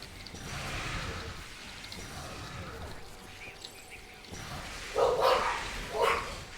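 Dogs in a video game barking in a cluster of sharp yips near the end, preceded by softer, muffled barking and game ambience.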